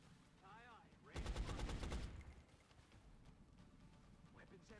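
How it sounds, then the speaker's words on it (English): Suppressive fire in the video game XCOM comes as a short, loud burst of rapid automatic gunshots lasting about a second, followed by quieter game ambience. "lay down some suppressive fire"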